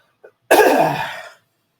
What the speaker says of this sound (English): Sorry, I had to do a heavy cough.